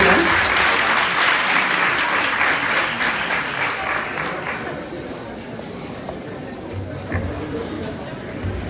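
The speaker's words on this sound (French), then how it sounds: "Vous pouvez applaudir." Applause from an audience at a Dakar city hall ceremony for medical students, dense clapping that starts loud and gradually thins out over several seconds amid faint crowd murmur.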